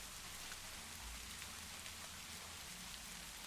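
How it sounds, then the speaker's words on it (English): Steady rain falls continuously, a dense even hiss of drops on surfaces with scattered louder patters, close and unbroken, with no voices. "Just taking a moment to listen to that rain."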